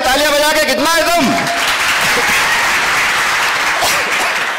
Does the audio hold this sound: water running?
no